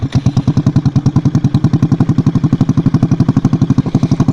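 A motorcycle engine with its exhaust baffle removed idles loud and close, a rapid, even, throaty thumping pulse that stays steady throughout with no revving.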